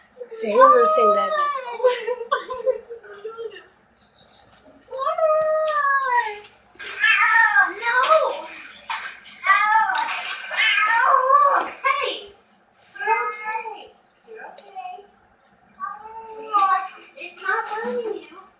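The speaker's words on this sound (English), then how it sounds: "That's a cat saying that." A cat meows repeatedly in drawn-out, wavering cries that rise and fall across the whole stretch, loud and close, with brief pauses between calls and no clear talk over them.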